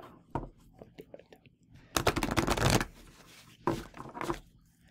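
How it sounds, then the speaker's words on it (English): Playing cards being shuffled by hand, several quick riffling bursts with the longest in the middle, close and fairly quiet, separated by soft handling noises and brief murmured speech. "I'm shuffling."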